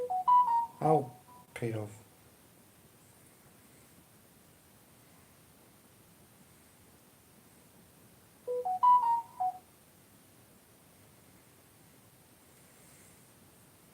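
A phone sounds a short stepped electronic tone near the start and again a few seconds later, brief tonal bursts over a quiet background, with a voice speaking near the opening.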